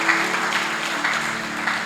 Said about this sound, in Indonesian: Kita berikan tepuk tangan bagi Tuhan.